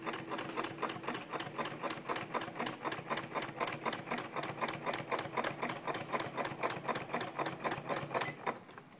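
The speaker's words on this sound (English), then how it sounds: "Pop my foot down, and I'm going to just press the go button." Sewing machine stitching a blanket, a steady fast mechanical chatter of the needle running for about eight seconds at close range before slowing to a stop.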